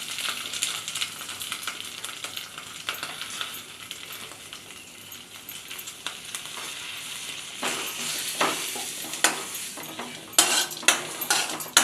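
Cumin and grated coconut frying in a pan while a utensil stirs and scrapes: a steady, close sizzle with frequent metallic clinks and scrapes, growing busier toward the end, no talking.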